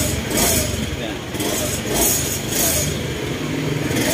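Motorcycle engine running steadily just after a push-start, a close continuous rumble with slight revving swells, as someone talks over it.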